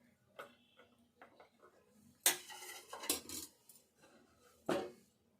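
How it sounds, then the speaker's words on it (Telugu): Jaggery kaja dough being cut into pieces with a knife, sharp clinks and taps on a plate or board at irregular intervals, close by in a quiet room. "అన్ని ఇట్లా పీసులు కట్ చేసుకోవాలి."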